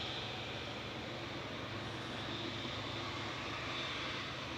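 An Etihad airliner departs a runway, its engine roar a steady, even broadband rumble at moderate distance, holding level throughout with no voices.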